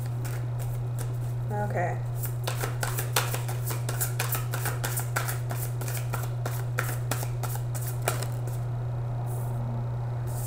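Tarot cards are shuffled close by in a run of crisp, quick riffles and flutters over a steady low hum, with a brief spoken word near the start.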